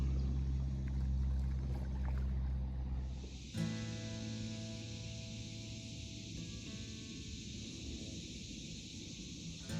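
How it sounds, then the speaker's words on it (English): A paddle dips and pulls through calm water on a Saturday morning outing near a campground, giving soft close splashes and trickles over a quiet, steady hiss. "Nothing like a Saturday morning paddle."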